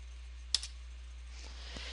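A few isolated keystrokes sound on a computer keyboard, faint and close, with a sharp click followed by a couple of softer taps over a low steady hum.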